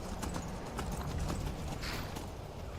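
Horse hooves clip-clop in a steady walking rhythm while riding in the Skyrim video game, a run of soft, evenly spaced hoofbeats heard faintly under a low background.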